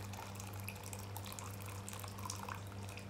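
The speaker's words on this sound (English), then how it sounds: "I'm going to start off with boiling water. We're going to do 250 mils, one cup, into a jug." Boiling water, 250 ml, pours steadily into a jug, a continuous faint splashing and trickling with a low hum underneath, no speech.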